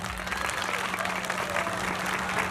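Audience applause at an outdoor wedding ceremony during the Uzunköprü festival, just after the mayor pronounces the couple married: a steady, dense clapping of many hands throughout, with a low steady hum underneath.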